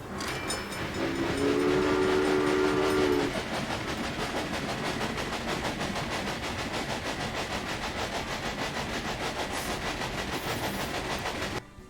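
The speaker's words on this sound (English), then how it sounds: "so they automatically turn the train around" Train running in the video game Railway Empire, a steady rumbling, clattering roll with a whistle sounding early on, loud and continuous throughout.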